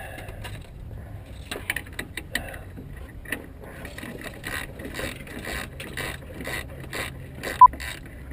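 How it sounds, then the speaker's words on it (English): Ratchet tightening down a bolt in a cramped spot during a car bass speaker mount install: a run of close, crisp clicking pawl strokes in uneven bursts, ending with one sharp metallic tick, with no talking. "And let's tighten down bolt number one."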